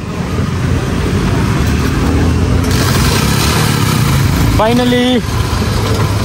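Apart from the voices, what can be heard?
vehicle engine being started and idling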